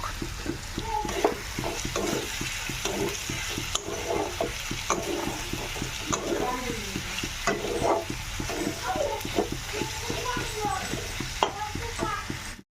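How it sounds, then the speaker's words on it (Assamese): Meat with onion, chili, salt and turmeric is stirred in a sizzling pan. The spoon scrapes and turns in steady, repeated strokes over continuous close frying crackle, with no talking. "চ' ইয়াত ধুনীয়াকৈ মাংসখিনি লাৰি ল'লোঁ"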